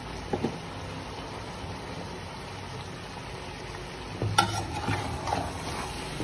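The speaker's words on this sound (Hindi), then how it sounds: "देखिए हम अपने स्पाइसेस मिक्स करेंगे अच्छे तरीके से" Spices for chicken biryani, including ground red chili, fry and get stirred in a pan, giving a soft steady sizzle with a few scraping stirs, one louder clatter partway through.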